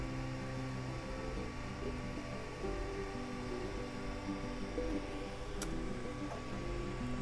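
A Creality Ender 3 v2 3D printer runs mid-print, its stepper motors whirring in shifting tonal hums and buzzes over a constant fan drone, steady and close with no talking.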